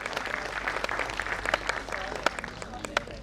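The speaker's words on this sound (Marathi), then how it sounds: "जरा जोरदार टाळ्या वाजूया." An audience at a Mayor Award 2024 school teachers' ceremony applauds steadily, a dense wash of clapping with a few sharper claps standing out, moderately close and continuous throughout.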